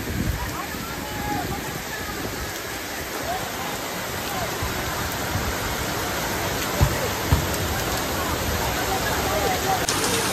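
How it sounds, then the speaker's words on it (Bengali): Heavy torrential monsoon downpour outside near a field, a dense steady wash of rain noise filling the whole stretch with a couple of faint knocks near the end, no clear voices. "মানে পুরো আকাশ ভাঙা বৃষ্টি পড়ছে বাইরে।"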